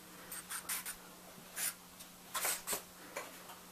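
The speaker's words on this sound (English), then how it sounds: "After the initial guidelines are in place with the Willow Charcoal, I'm going to move to a charcoal pencil" Willow charcoal sketching on paper while laying in guidelines for a front-facing male portrait: quiet, close scratchy strokes in short irregular bursts, some quick and some drawn out, over a faint steady hum.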